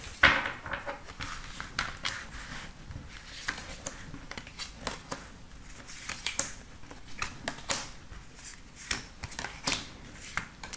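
Tarot cards being shuffled for a reading, a long run of soft, repeated riffling and slapping bursts at close range in a quiet room, with no talk.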